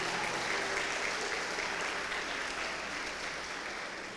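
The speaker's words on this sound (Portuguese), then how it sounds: "Não, aplauda aí." A church congregation applauds steadily, a dense wash of many hands clapping that holds for several seconds and fades slightly toward the end, with no voice on top.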